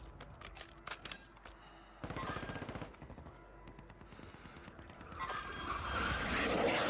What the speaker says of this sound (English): I'm just shooting all the men at all times.